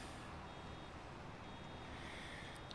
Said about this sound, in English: that beeping sound on your baler when it's almost full